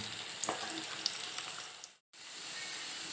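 Egg frying and scrambling in a pan for a Chinese-style egg dish, a steady close sizzle with a few light spatula taps, briefly dropping to silence before the hiss resumes.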